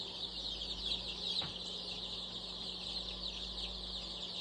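A dense chorus of chick peeps from about a thousand young birds in a basement brooder forms a constant high-pitched chatter, with a steady background hum running beneath it.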